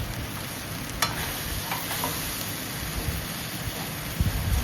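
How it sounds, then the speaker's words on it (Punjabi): Okra sabzi with garam masala being stirred in a pan, a steady dense sizzle with scraping of a ladle, close and continuous, occasional clinks near the start and end. "ਥੋੜਾ ਜਿਹਾ ਗਰਮ ਮਸਾਲਾ ਐਡ ਕਰ ਦਿੰਨੇ ਆ ਤਾਂ ਇਹਨੂੰ ਚੰਗੀ ਤਰ੍ਹਾਂ ਨਾਲ ਮਿਕਸ ਕਰ ਦਾਂਗੇ"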